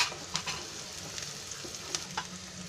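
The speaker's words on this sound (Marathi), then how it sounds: "आता थोडा कांदा लाल व्हायला द्यायचा." Onion frying with curry leaves in a pan for kanda pohe, giving a soft steady sizzle with a few light stirring clicks.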